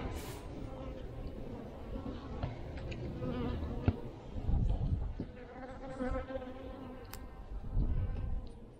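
Honey bees buzzing around an opened overwintered colony during a hive inspection, a soft continuous drone with occasional nearer passes and faint clicks from handling.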